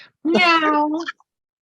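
A person imitates a cat with a single drawn-out meow, close and loud, during an improv theatre scene.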